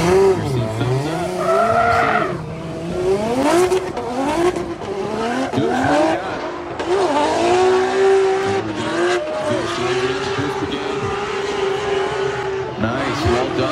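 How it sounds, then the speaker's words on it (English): Drift cars at a Formula Drift event in Florida, engines revving hard with rising and falling exhaust notes and squealing, skidding tires, loud and continuous throughout with a commentator talking over them. "You can hear that exhaust note coming all the way through."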